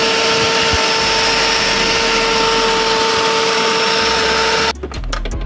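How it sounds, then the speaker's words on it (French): A powerful grinding machine reduces fish pieces to flour with a loud, steady, droning whine and constant whir that cuts off abruptly near the end, leaving scattered clatter. "Une machine beaucoup plus puissante. Ça va les broyer à l'état farine."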